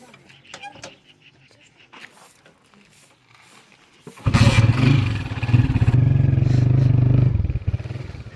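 A motorcycle starts and rides off nearby, its engine suddenly loud and rumbling for about four seconds after people chat quietly over faint clatter.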